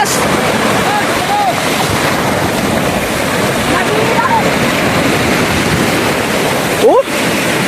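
Strong ocean surf rolls in at a beach in Tangalan, Aklan, a continuous loud roar of breaking waves mixed with wind buffeting the microphone, with brief voice sounds over it.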